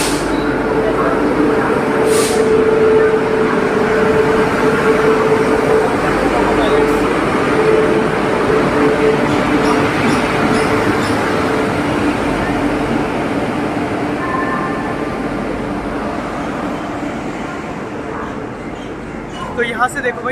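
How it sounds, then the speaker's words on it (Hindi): The 12057 Una Jan Shatabdi Express pulls out of Chandigarh station, heard as a continuous low rumble and rolling rail noise with a faint hum that slowly fades, while someone talks over it. "तो यहाँ से देखो भाई ट्रेन का पूरा डिपार्चर।"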